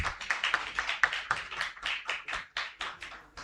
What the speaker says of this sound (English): Ladies and gentlemen, can you please put your hands together for Dr.